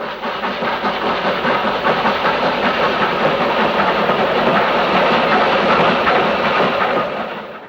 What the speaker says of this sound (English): you could hear the train going